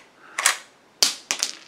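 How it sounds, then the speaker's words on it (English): A shotgun's magazine cut-off is pulled to the rear, producing three sharp metallic clicks and clacks in close succession, crisp and near, with no talking. "you just simply pull that magazine cut off to the rear"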